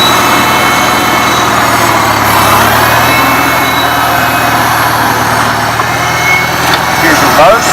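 A 1975 Farmall Cub tractor engine runs steadily in first gear, a loud, even, close mechanical drone that holds at a constant pitch throughout.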